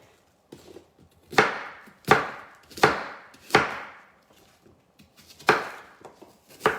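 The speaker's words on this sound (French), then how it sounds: "je vais découper ma pomme" An apple is chopped into small pieces with a knife on a board, giving sharp, close, evenly spaced thuds, about seven strikes with short pauses between them.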